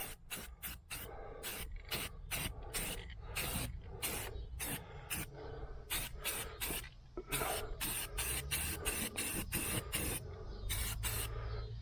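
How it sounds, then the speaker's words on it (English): An aerosol spray can hisses in repeated short bursts, applying paint coats to parts of a 1981 Z28, close and steady, with brief pauses between sprays and no talking. "We'll spray a couple of coats."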